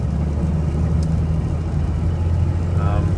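Suburban converted to a Cummins 6BT 12-valve diesel driving on the road, a loud, steady low engine drone with road roar from inside the cab, a voice talking over it.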